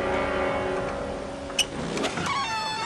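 A car passes nearby with a smooth engine hum, a brief mechanical whir and clicks near the end, and no voices.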